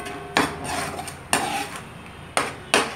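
Onions are stirred and sautéed in a pan with a spoon, giving four sharp scraping knocks against the metal over a continuous frying hiss.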